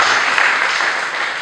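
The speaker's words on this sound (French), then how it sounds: "Et acclame le Seigneur Jésus-Christ." A church congregation applauds and cheers, a dense steady roar of clapping that fills the space loudly throughout.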